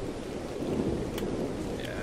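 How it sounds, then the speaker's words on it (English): A thunderstorm rumbles and rain pours steadily in ARK: Survival Evolved, a dense, loud wash of rain with low rolling thunder, no voices. "It storms a lot on the center"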